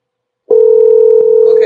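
A telephone ringback tone on an outgoing call, one steady loud electronic tone starting after a short silence and held to the end, with no talk.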